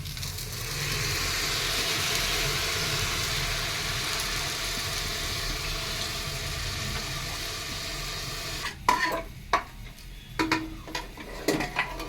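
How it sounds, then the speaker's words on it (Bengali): Rice stirred and lightly fried in a pot before water is added for biryani makes a steady sizzling hiss, close and continuous, then breaks into a few sharp utensil scrapes and clinks near the end. "নাড়াচাড়া করে দেখো আমি হালকাভাবে ভেজে নিচ্ছি"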